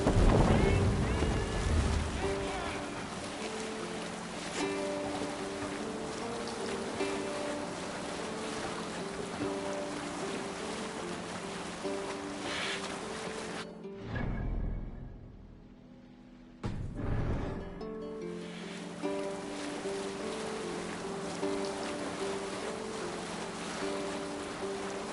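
In the Assassin's Creed Valhalla video game, a boat sails out at sea with a continuous rush of water and wind under steady layered game music, which drops out briefly midway before resuming.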